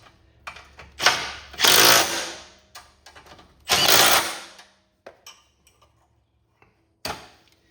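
Ratcheting clicks and short mechanical bursts from tightening a 7/16 bolt on a Cub Cadet 1440-1641 fender, two longer ratchet runs with scattered ticks and pauses, close and moderately loud.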